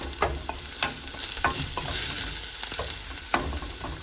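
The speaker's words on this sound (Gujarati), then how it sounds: "તો અહીંયા મેં થોડું તેલ લઈ લીધું છે, અને આપણે ઓનિયન અને બીટરૂટ પહેલાં સાતળીશું" Onion and beetroot sautéing in oil in a pan, a close, steady sizzle broken by a few sharp clinks and scrapes of a spoon stirring, with no talking.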